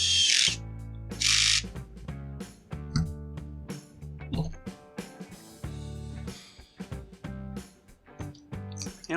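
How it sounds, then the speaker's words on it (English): A screw is driven into the anti-vibe mount of a Husqvarna 562XP chainsaw, heard as repeated short bursts of a whirring power driver with stops and starts and some ratcheting clicks in between. "We'll get our screw put back in our anti-vibe mount before we forget."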